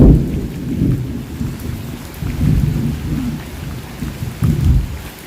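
Heavy rain pours down steadily while deep rolling thunder rumbles through it in several swells, loud and close, with no voices.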